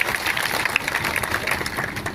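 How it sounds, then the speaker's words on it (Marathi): A crowd at a protest march applauds the organisers, a dense, steady wash of clapping from many people that holds evenly throughout. "त्यांच्यासाठी आता टाळ्या वाजवा अशी विनंती आपल्याला"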